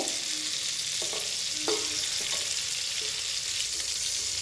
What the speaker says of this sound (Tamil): இந்த கருவாடை கொஞ்சம் நான் ஃப்ரை பண்ணிட்டுருக்கேன்.